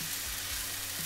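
Soaked basmati rice hitting a hot pot for one-pot chicken and rice, a loud, close, continuous sizzle with faint stirring scrapes underneath.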